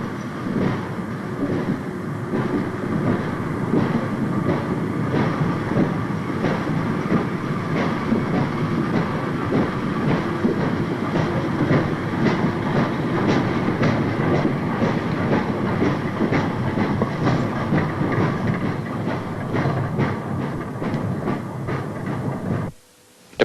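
A commuter train rolls steadily along the rails with a continuous rumble and rhythmic clickety-clack, loud and close, fading abruptly at the end.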